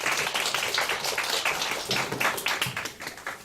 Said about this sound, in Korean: 박준영 선생님을 큰 박수로 모시겠습니다